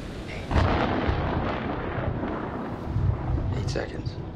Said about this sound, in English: The storm's 8 miles away.